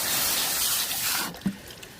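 Water sprayed over potted succulents in a dry climate, a steady close hiss of spray running about a second and a half before cutting off, followed by a few faint drips and small splashes.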